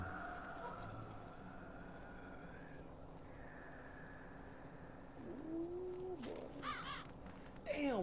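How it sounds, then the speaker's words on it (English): Crows cawing in the zombie video game Zombi, a few harsh caws rising late over a steady low game ambience and distant siren-like tones, moderately near. "Damn birds, man. Them fucking birds, bro."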